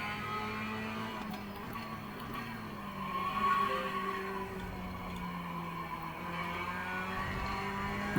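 Racing video game car engine held near the rev limit, a steady droning whine with layered tones that swells slightly midway, continuous and fairly loud throughout.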